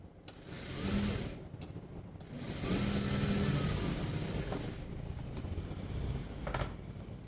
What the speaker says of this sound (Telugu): ఇలా పెట్టుకుని దీని మీద కుట్టు వేసుకుందాం.